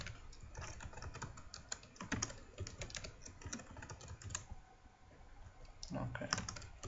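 Typing on a computer keyboard while entering an administrator password during a server lab setup: rapid, uneven clusters of key clicks running continuously, close and moderately loud, with a brief pause near the end.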